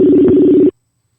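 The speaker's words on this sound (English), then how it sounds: "I'm going to see if I can place a call while we are at rest right now" A telephone line sounds while a call is being placed: a single loud, steady electronic tone holds for under a second, then cuts off abruptly into silence.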